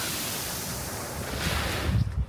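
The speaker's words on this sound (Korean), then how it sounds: "발 아래로 들리는 파도 소리를 쫓아 내려다 보았는데요" Sea waves wash below a coastal skywalk past the breakwater at Jeongdongjin on the Gangneung coast, a steady broadband roar with wind on the microphone that swells louder toward the end, with no voices.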